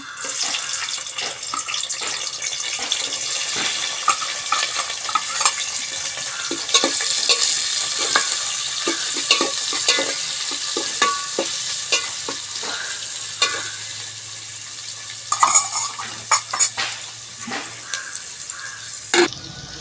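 Onions, green chilies and curry leaves fry in a pot over a wood-fire stove, giving a steady close sizzle with scattered stirring scrapes and clinks and a low hum toward the end.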